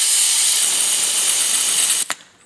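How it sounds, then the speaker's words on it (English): Butane fuel hissing and spraying back from a Blazer torch being refilled, a loud steady airy spray that cuts off abruptly near the end with a brief click and fading hiss. "you're looking for a big wet spray back when it's full."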